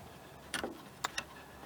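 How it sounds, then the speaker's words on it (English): A socket wrench loosens nuts on the trunk of a 2013 Hyundai Sonata, giving a few sharp, quick metallic ticks close by in an otherwise quiet space. "take a 10 millimeter socket or wrench and unscrew"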